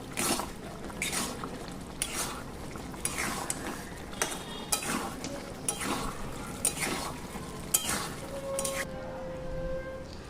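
Fried paneer pieces stirred into a thick gravy in a pan: repeated scraping strokes of a spoon against the metal, roughly one per second, close and moderately loud over a quiet bubbling background.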